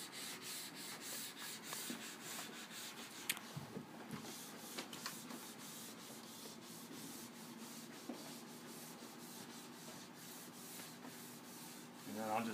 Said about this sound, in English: And the ski's still warm, I can cork that stuff in.